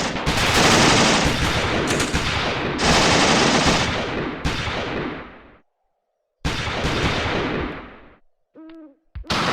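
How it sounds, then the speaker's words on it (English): Russian machine gun in the WWII strategy game Achtung Panzer Operation Star firing long, dense sustained bursts separated by brief pauses, loud and close, with a short quiet gap and a faint hooting call near the end. "Russian machine gun right here"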